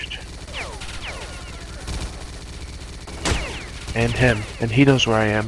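Chain gun fire crackles in S.T.A.L.K.E.R.: Clear Sky as rapid, mid-distance bursts of shots, under a player talking over the shooting.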